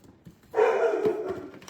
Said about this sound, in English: every time we see somebody outside, she decides she needs to bark.